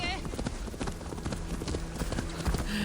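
A horse's hooves clip-clop steadily in the video game Assassin's Creed Valhalla, a quick continuous rhythm of hoofbeats close by, mixed with game ambience and someone talking over it.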